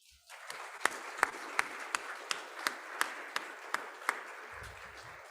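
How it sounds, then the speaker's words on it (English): Applause from a lecture audience at the Bhaktivedanta Institute, heard after a talk on formal versus inimitable computation: a dense, steady wash of clapping with a few sharper individual claps standing out at regular intervals, fairly close and sustained, no voices. "So another round of applause."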